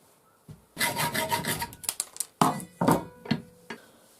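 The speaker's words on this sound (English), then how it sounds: "the next thing I'm going to do is saw the bolts off" A hand saw cuts through the bolts on a full tang knife handle, close rasping strokes in an uneven rhythm, a long run of back-and-forth strokes followed by shorter separate pulls, with no talking.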